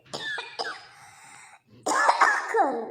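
A few harsh coughs sound up close, followed after a short pause by a louder, rougher burst of coughing.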